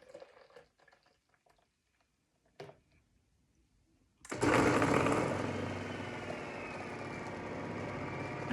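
A Nama M1 plant milk maker starts its spin cycle on pulp, jumping from near silence to a loud steady whirring motor hum after some faint clatter, then running evenly.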